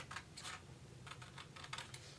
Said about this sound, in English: I just simply take my scissors. I get kind of close, but you don't have to be too close. And just cut out the basic shape